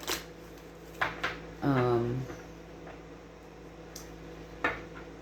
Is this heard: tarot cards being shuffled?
yes